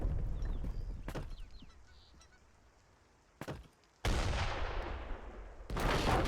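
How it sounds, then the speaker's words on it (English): Cannon fire destroying a fort in a real-time strategy game: heavy booming shots at spaced intervals, each followed by a long rumbling collapse and fading debris noise, loud and close. "One more shot, and there goes the fort in all its glory"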